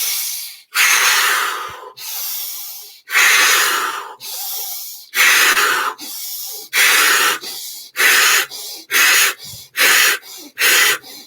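Deep breaths drawn in and pushed out during a guided heart-chakra breathing exercise, a run of about a dozen loud, close, airy inhales and exhales that start long and quicken into shorter, faster bursts, with no talking.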